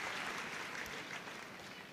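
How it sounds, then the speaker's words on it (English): Applause from the audience at the terrier group judging at Crufts 2023 dog show, a steady faint patter of clapping hands in a large hall, heard alone for about two seconds. "Giving a quick round of applause to all of the other best of breed winners"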